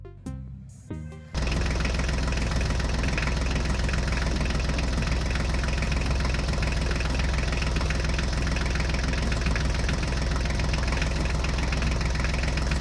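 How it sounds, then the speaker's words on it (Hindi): A tractor engine runs close by, a loud, steady chugging drone that continues without a break after a brief start. "तुम ट्रैक्टर गाड़ी को लेकर चलो, जल्दी चलना होगा हमें।"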